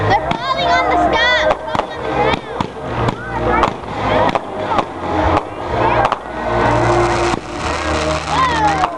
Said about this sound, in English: Look at the pretty fireworks Lehman's getting to see.